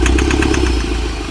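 Mahindra Scorpio mHawk diesel engine idling with a knocking fault, a steady close rumble carrying a regular rapid tick-tick knock throughout, with no talk.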